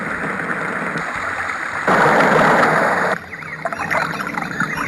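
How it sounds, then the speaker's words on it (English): A sleep sound machine plays a rainfall setting, a steady hiss of falling rain with shifting texture and a brief louder burst partway through, heard close and alone. "rainfall."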